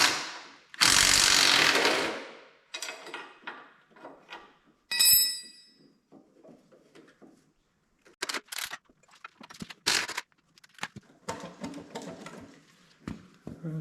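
Ratchet working bolts loose on a Kohler K Series engine of a Cub Cadet 102 tractor, with close, quick pawl clicking in short bursts, a few louder metallic clanks and scrapes between them, and quiet gaps, no speech.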